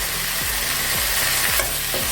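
Tomatoes sauté in a pan for mint kurma with a steady sizzle, broken by several rhythmic scrapes of stirring, close up with no talking.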